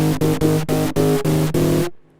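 A synth runs through a distortion plug-in, playing loud, gritty, buzzing chords in a regular pulsing rhythm of about seven hits before cutting off abruptly into near silence.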